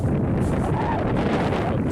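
Strong wind gusting at a waterside spot with seagulls nearby, a steady loud rush buffeting the microphone throughout with no break.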